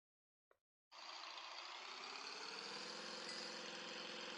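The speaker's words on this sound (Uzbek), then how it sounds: "U minibus." A minibus engine idles in a Minecraft 1.12.2 vehicle mod, starting after a brief click and then holding a steady, even, moderately loud drone that runs on alone without talk.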